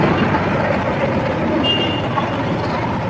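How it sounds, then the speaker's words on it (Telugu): Heavy road traffic on New Year's night on a beach road, a dense steady rumble of trucks, buses and cars with a faint high beep partway through, no talk. "ట్రాఫిక్ అయితే మాత్రం గట్టిగానే ఉన్నది"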